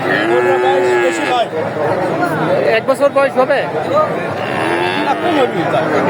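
A local Bengali-breed bull at the crowded Dhap cattle market in Bogura lows several times, close and fairly loud, over steady crowd chatter and people talking nearby.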